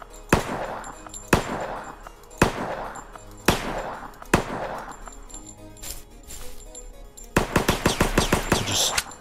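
Gunfire aimed at zombies in the game Apocalypse: five sharp, evenly spaced single shots, a pause, then a fast rattling burst of rapid shots, loud and close.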